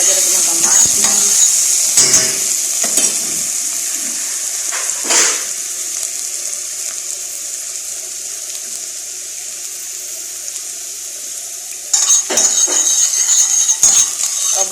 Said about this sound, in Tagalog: Brownin na natin yung sibuyas, bawang, ilagay ang kamatis.